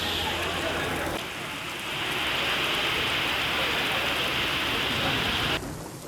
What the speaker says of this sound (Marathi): नवी मुंबईत पावसाला सुरुवात झाली आहे